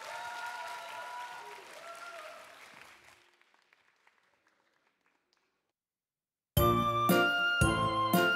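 An audience at a Jeju-dialect children's song festival applauds to welcome a children's choir. The clapping fades out over about three seconds into near silence before music starts.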